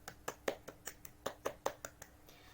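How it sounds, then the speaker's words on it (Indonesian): Sparse, faint applause in a classroom after a presentation, with about a dozen distinct hand claps in an uneven rhythm. "Beri tepuk tangan dulu untuk yang presentasi barusan."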